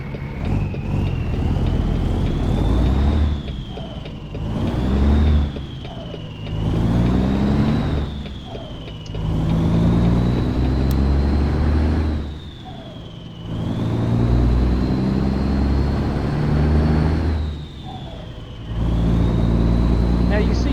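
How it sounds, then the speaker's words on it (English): Heavy truck engine in American Truck Simulator, driving a Ruta truck: a steady droning diesel roar that rises and falls in repeated pitch sweeps through gear changes, loud and continuous. "I just had to go with my old favorite engine, and luckily it works with the Ruta truck"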